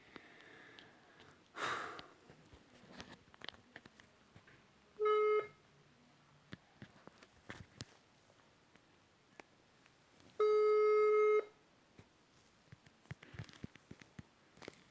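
A phone call left unanswered, with two separate electronic ringback tones, each a steady buzzing burst about a second long, heard faintly among quiet rustling and breathing.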